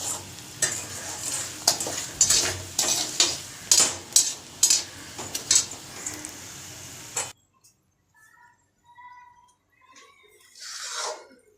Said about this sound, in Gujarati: અહીંયા આપણે ગુંદર તળાય છે